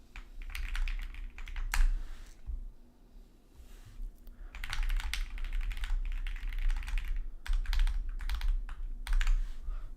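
Bursts of fast typing on a computer keyboard with loud, worn backspace and enter keys, clattering close up in uneven flurries separated by brief pauses.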